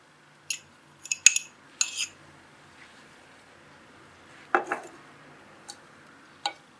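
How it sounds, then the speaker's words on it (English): A fork clinks and scrapes against a bowl in sparse, separate taps while golden syrup and milk are stirred into dry ingredients for gingerbread; quiet, close, with short pauses between the strikes. "I'm going to start off mixing it with my fork"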